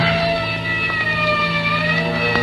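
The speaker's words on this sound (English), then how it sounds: "somewhere in the distance I heard a siren" A siren wails steadily in the distance, its tones holding and gently gliding over a dense low rumble of traffic, with no voices.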